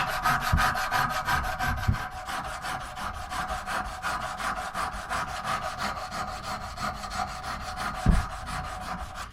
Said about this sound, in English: Sandpaper, old sandpaper, and just do the front edge.